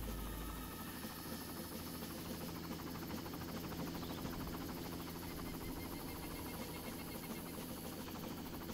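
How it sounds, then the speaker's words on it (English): A helicopter hovers in the first Far Cry video game, a steady, unbroken rotor-and-engine drone that holds at an even loudness throughout with no voices over it. "The helicopter doesn't want to leave."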